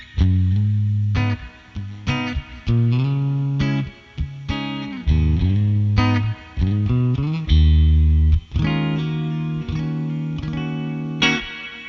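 Guitar plays through a Joyo Atmosphere reverb pedal set bright and shimmery, loud melodic single notes and chords ringing with a long, lush tail.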